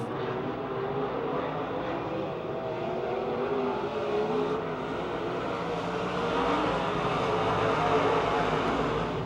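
Race cars roar around the Pennsylvania Motor Speedway oval near Pittsburgh, a continuous blended engine drone heard from the stands at moderate distance, swelling slightly toward the end.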